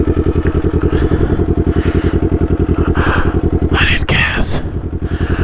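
A loud 400cc motorcycle engine idling and revving up close, a rapid throbbing exhaust pulse with crackles, while people talk over it.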